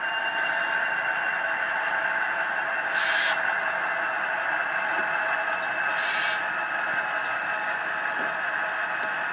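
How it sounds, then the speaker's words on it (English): SDF40-2 model diesel locomotive sound decoder starting up, a steady loud hissing engine drone with short bursts of air release at intervals, close and continuous without speech. "So we'll start up the 5259."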